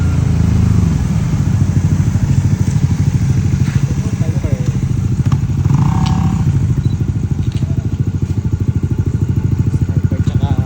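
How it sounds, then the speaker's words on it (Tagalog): Red Yamaha Sniper 150 and NMAX motorcycles arrive at the Sual arch in Pangasinan during a touring ride, their engines a loud, continuous rumble throughout with a little clatter, while people talk in the background. "isa ngang Sniper 150 B1 at NMAX B1 nga ang dumating mga katribo"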